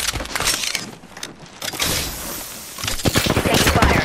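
Heavy gunfire in Apex Legends, a battle royale shooter, forms a dense, continuous barrage of rapid shots with brief lulls and a burst of quick, sharp reports toward the end.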